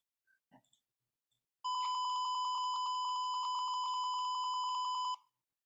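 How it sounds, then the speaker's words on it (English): An Arduino buzzer set off by a PIR motion sensor sounds one continuous, loud, piercing electronic tone that lasts about three and a half seconds and then stops. A few faint clicks come before it. "the buzzer and LED get triggered"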